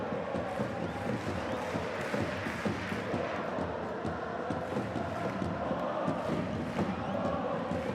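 A dense, continuous roar rises from a football stadium crowd as Kawasaki Frontale fans celebrate a J1 League result against Urawa Reds, loud and sustained, with commentary voices under it.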